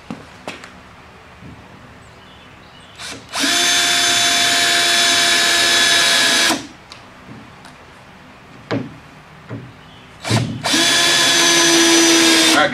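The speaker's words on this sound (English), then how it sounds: "now I'm just going to go along the lines that I drew and put screws every few inches" A power drill drives screws into a 2x4 chicken coop base in two loud sustained whirring runs of a few seconds each, with scattered knocks and clicks of handling in the pauses between them.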